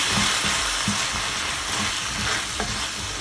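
Soy sauce, ketchup and spring onion being stir-fried together in a pan for chilli chicken, a steady bright sizzle with soft scraping stirs throughout, close and continuous with no talking.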